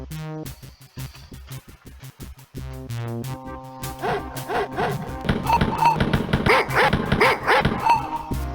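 Dogs barking in the Wolfenstein 3D video game, repeated sharp barks and yips stacking up over a synthesized game soundtrack, growing busier and louder toward the end with no talk.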